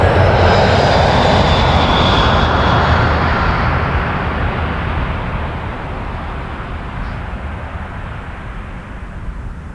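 Emirates 242 taking off from runway 06 at Toronto Pearson sends out a loud, close, broadband jet engine roar that slowly fades and thins as the aircraft climbs away.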